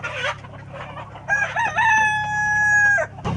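A Kadaknath black country chicken gives a loud, close rooster crow of about two seconds, preceded by short clucks and scratchy farmyard noise.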